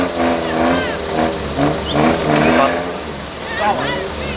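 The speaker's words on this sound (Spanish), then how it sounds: "ese ya lo está acelerando mucho" At an outdoor dirt-ground event in La Vega, a car engine revs and accelerates hard in repeated rising surges, loud and close, while people talk and a crowd murmurs around it.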